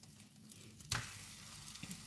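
A Malaysian-style sardine sandwich sizzles faintly in a frying pan, with a sharp clatter and burst of louder sizzle as it is flipped, then a soft steady crackle.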